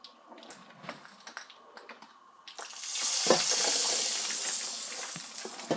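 A popcorn popper is set down and flipped over, with a few light knocks and clatters followed by a steady loud rushing hiss of kernels and oil shifting inside, fairly close.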